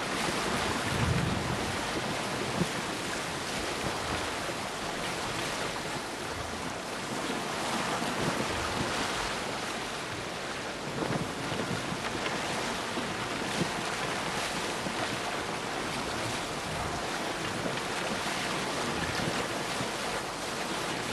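A small boat sails over waves in a video game, with steady surf wash and wind rushing loudly and continuously throughout, and no voices.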